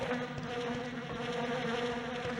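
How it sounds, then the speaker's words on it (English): Swarm of bees in the Resident Evil Dead Aim video game drones in a steady, dense buzz that fills the scene continuously, close and unbroken, with no voices over it. "Not the bees. Not the bees."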